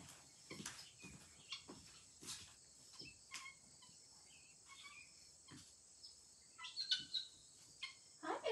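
Pet birds chirp indoors with short, high, thin calls scattered across the stretch, some bunched together and louder near the end, with no one speaking.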